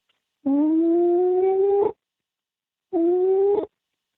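A person imitates a howl heard in the woods, voicing two sustained, slightly rising wails: a long one near and loud, then a shorter one after a pause.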